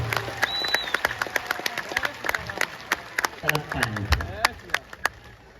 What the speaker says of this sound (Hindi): जोरदार ताली बजा करके उन बेटियों का स्वागत करो